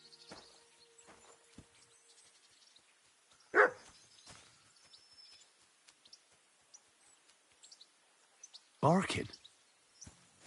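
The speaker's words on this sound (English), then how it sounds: "Barking." A dog barks twice in Kingdom Come Deliverance 2, each bark a short, loud burst standing out from a quiet, faintly noisy game backdrop, spaced several seconds apart.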